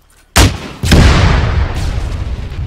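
Two heavy blasts from a rocket launcher firing a high-explosive round in a military video game: a sharp launch crack followed half a second later by a louder booming detonation that rolls on into a long, rumbling decay.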